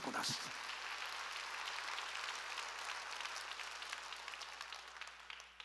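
A church congregation breaks into sustained applause during a sermon, a broad, continuous clapping from many hands that stays fairly steady and slowly thins toward the end.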